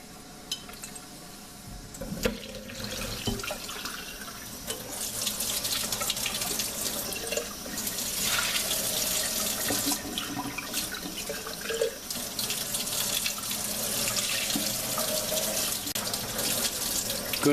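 Tap water pours steadily through a sieve to rinse tomato seeds, a continuous close splashing rush with a few faint clinks near the start.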